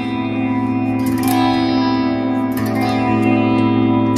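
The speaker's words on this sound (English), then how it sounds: "Delays, sounds like we've got delays" Electric guitar, a Reverend Flat Rock with humbucking pickups, played through a delay effect on a Sonicake Matribox II pedalboard; sustained chords ring out with repeating echoes and reverb tails, loud and alone.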